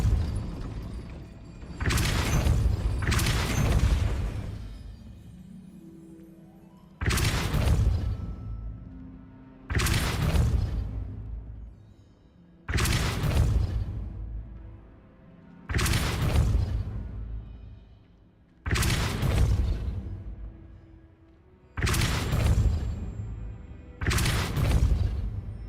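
Depulso spell casts in Hogwarts Legacy, a series of about eight forceful whooshing bursts at roughly three-second intervals, each a sharp impact that fades into a decaying rumble.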